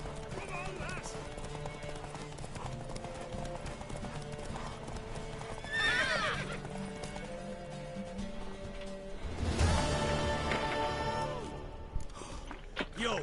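Horse hoofbeats clip-clop steadily with a whinnying neigh midway, from a mare in The Witcher 3 video game, heard under game dialogue and background sounds.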